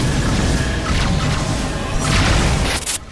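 Broadside cannon fire from a ship in the space game Rebel Galaxy, heavy booming that rolls on continuously and loudly, then cuts off abruptly at the end.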